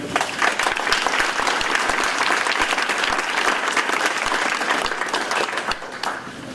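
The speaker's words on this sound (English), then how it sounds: "Can we give them a round of applause?" An audience at the 2018 PIE Awards, a school-district partners-in-education event, gives a long, steady round of applause with dense clapping that fills the room and holds even throughout.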